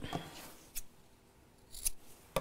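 Scissors snip across the corners of sewn fabric in a few quiet, separate cuts close by, with soft rustling between the sharp clicks of the blades.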